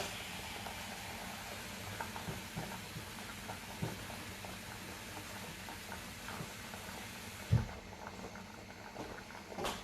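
Water coming back to a boil in a cooking pot, with a steady, continuous bubbling and hissing simmer throughout and a single sharper knock near the end; no one speaks.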